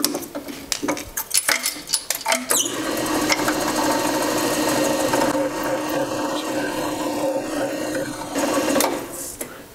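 A power drill grinds steadily through walnut wood, with sharp bursts of scraping at the start before settling into a continuous whirring bore.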